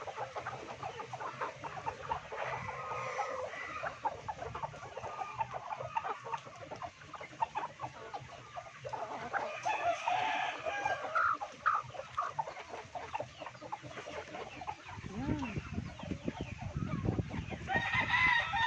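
Chickens and roosters on a farm cluck steadily in a busy flock, with occasional crowing and scattered bird calls, fairly close and continuous throughout, with a louder burst of activity near the end.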